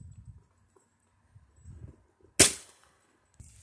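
A single sharp shot from a Gamo Whisper Fusion Mach 1 .22 air rifle fired outdoors at a 60-yard target, loud and close with a short decaying tail, framed by quiet low rustling before and after.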